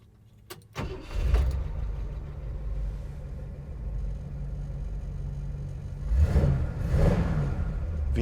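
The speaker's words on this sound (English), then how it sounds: "V8 sounds good in this one" A 1956 Ford Fairlane Victoria V8 starts up with a sharp catch and settles into a steady near rumble, then revs twice, swelling louder before easing back to idle.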